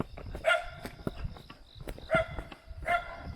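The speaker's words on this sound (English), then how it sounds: "Yeah, dogs." Several dogs bark outdoors on a hiking trail in Japan, three loud bursts of barking at mid distance with quieter yips between them and no talk.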